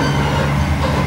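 Chinese high-speed sleeper train running, a steady loud rumble of motion heard from inside the carriage with no voices.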